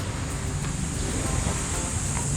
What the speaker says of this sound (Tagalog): Tunog ng alon. Alon ng dagat.